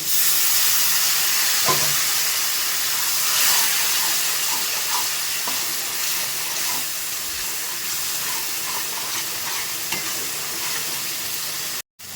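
Water hits a hot spice paste of red chili powder and ginger frying in oil for a cauliflower, potato and rohu fish curry, producing a loud sustained sizzle and hiss with light stirring scrapes, ending abruptly.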